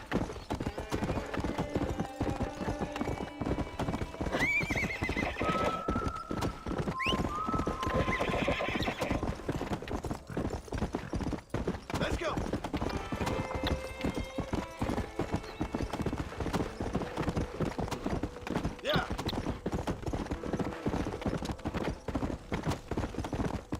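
Horse hooves clip-clopping in a rapid, steady rhythm throughout in the game Red Dead Redemption, with several sharp neighs and whinnies rising above the galloping, close and loud, while someone speaks briefly over it.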